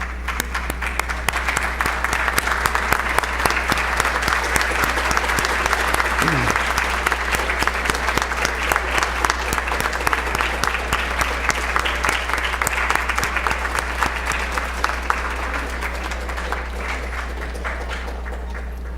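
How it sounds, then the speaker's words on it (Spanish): A standing symposium audience applauds steadily for nearly twenty seconds, a dense, loud wash of clapping that stays even throughout, with a low steady hum beneath and faint voices now and then. "Pido al auditorio ponerse de pie y darle un aplauso a Fernando Elías Mantero."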